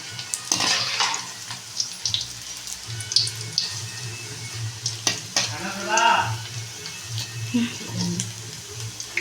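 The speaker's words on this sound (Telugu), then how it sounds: "ఇలా బాగా వేగాలి బాగా ఎర్రగా వేగాలి" Onion pakoda deep frying in hot oil, a steady close sizzle with occasional stirring clinks and scraping, no talking over it.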